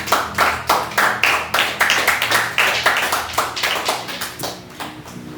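A church congregation at a Sunday worship service claps together in acclaim, with a steady rhythmic beat of many hands. The clapping is loud and close and carries throughout, slowing slightly and thinning toward the end.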